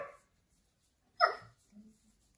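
Small dogs playing indoors, with a brief yip or bark near the start, a sharper louder bark in the middle and a low growl or whine after it, set against quiet gaps.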